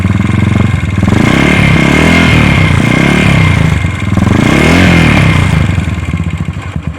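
Motorcycle fitted with a changed exhaust, revved close up and very loud toward 5,000 RPM in rising and falling surges over a rough, throbbing engine note, with no talking.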